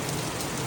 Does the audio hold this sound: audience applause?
no